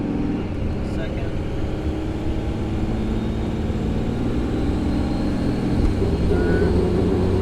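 A truck with a tap-shift transmission controller revs hard in low gear, its engine a loud, sustained roar climbing in pitch as it winds out.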